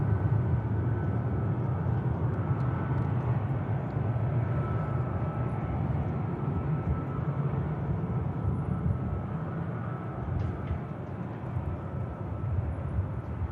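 A Ryanair airliner bound for Tenerife moves at Manchester Airport, a steady low jet rumble holding at even strength throughout, with no talk over it.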